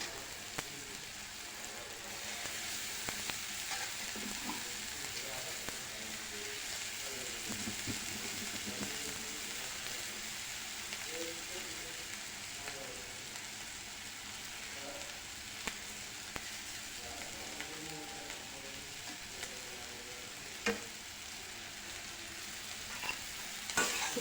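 Steady hiss of dried fish frying in hot oil, with soft scraping and occasional small pops, continuous and close, no talking.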